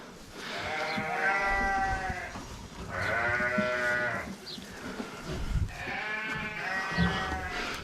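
Sheep on a farm bleat in three long, wavering calls, loud and close, separated by brief pauses, with faint rustling of hay in between.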